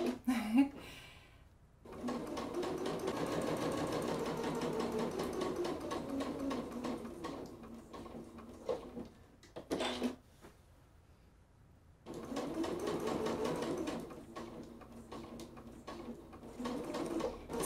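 Sewing machine stitching quilted fabric for slippers, bursts of rapid mechanical stitching with a pause in the middle, close-up, with a person talking over parts of it.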